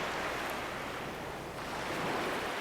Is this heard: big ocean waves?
yes